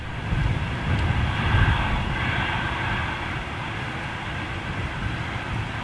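A Ryanair Boeing 737 airliner at Manchester Airport gives off a steady, broad jet roar that holds loud and even throughout, with no voices.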